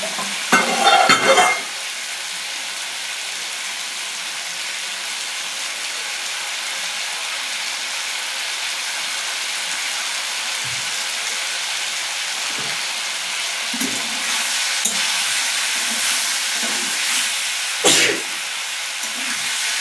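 Vegetable curry being stirred as it fries in a pan, a steady sizzle throughout with scraping spoon strokes near the start and toward the end, no talking.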